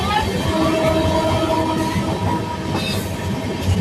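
Amrit Bharat Express weekly train running between Nagercoil and Cherlapally near the Andhra–Tamil Nadu border, a steady loud rolling rumble with faint wheel clatter and a thin high squeal, continuous throughout.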